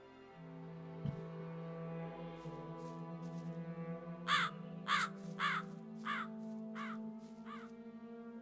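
In the video game Gothic 2, a crow lets out a run of about six sharp, evenly spaced caws over a low, sustained droning tone. An isolated thud comes earlier.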